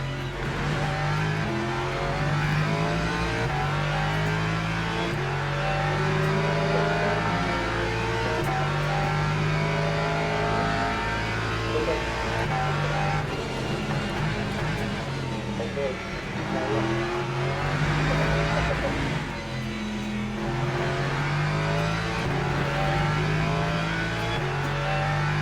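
Hypercar race car engines roar continuously in the Le Mans Ultimate racing game at the 6 Hours of Imola, a dense, loud drone of revving and shifting, with a voice talking over it at times.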